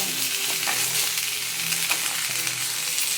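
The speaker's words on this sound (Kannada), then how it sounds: "ಚೆನ್ನಾಗಿ ಫ್ರೈ ಆಗಲಿ" Food frying in a pan for a Mangalore-style chicken dish, a continuous close sizzle with repeated scraping stir strokes, steady and fairly loud with no talk.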